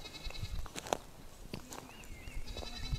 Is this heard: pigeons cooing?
no